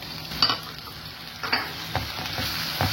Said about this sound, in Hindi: अब ये एलोवेरा जेल में डाल रही हूँ